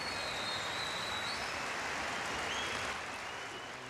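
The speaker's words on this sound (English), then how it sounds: "Cheer to the echo here." An arena crowd at a 1987 table tennis match claps and cheers in a dense, continuous wash of applause that holds steady and eases slightly toward the end, heard somewhat distantly without talking.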